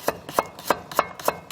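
A kitchen knife slicing ingredients thinly on a cutting board for a potato stew and acorn jelly salad, giving about six crisp, evenly spaced chops with sharp knocks against the board, close and clear.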